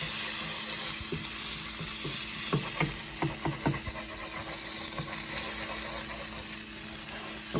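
Tomatoes hit a hot pan while pav bhaji is cooked at home, giving a steady close sizzle with a cluster of sharper crackles and pops partway through.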